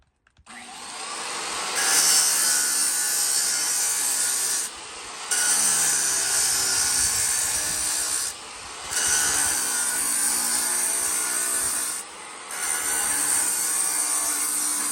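A diamond masonry saw blade scoring stone for a driveway patio project lets out a loud, harsh grinding whine in four long passes, each separated by a brief dip, with no voices.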